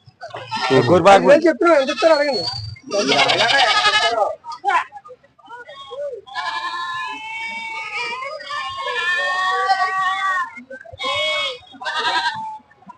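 Goats bleat repeatedly at a busy tribal weekly market, the wavering cries overlapping in near, loud bursts with short gaps, and crowd voices mixed in.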